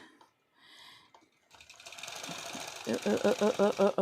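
A long arm quilting sewing machine stitches up close, starting after a quiet pause and building into a loud, rapid rhythmic mechanical chatter over a whirring motor.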